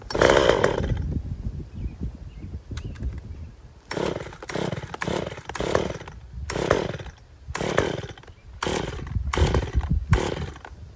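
A chainsaw bucks firewood in a loud, close series of bursts, revving hard, dropping to idle, then cutting again in quick repeated pulses with short gaps between.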